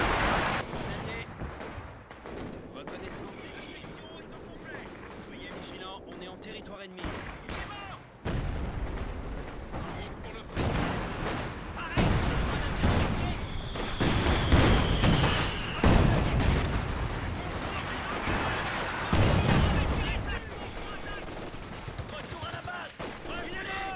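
Artillery cannon fire rumbles through a battle in the video game Company of Heroes 2, with heavy booms and crackling gunfire layered densely and continuously, growing louder midway.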